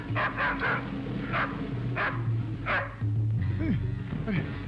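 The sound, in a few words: dog barking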